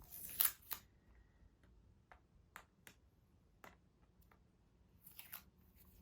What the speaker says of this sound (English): Masking tape, which is easy to remove.